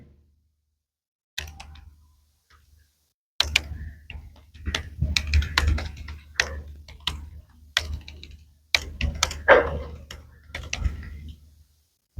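Someone types code into a Python file on a computer keyboard, producing bursts of close, light key clicks separated by short pauses, with no talking.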